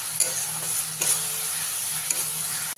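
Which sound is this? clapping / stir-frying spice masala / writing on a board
stir-frying spice masala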